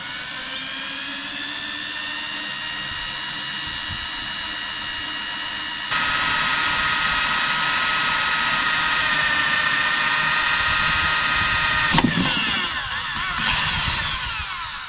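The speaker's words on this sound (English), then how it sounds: "Then we slowly drill a hole." A loud, continuous high-pitched whine of a power drill boring a hole through metal while fitting a radiator to a classic car, steady for a long stretch with a brief shift near the end.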